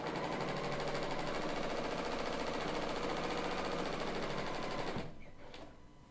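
A Bernina L890 serger runs fast through heavyweight fabric, a loud, steady rapid mechanical chatter that stops abruptly near the end, leaving a low quieter hum.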